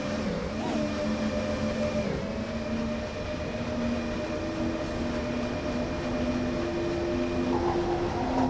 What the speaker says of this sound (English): This is a big old freight train.